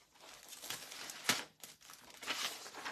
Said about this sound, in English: We're just going to put a piece of paper down.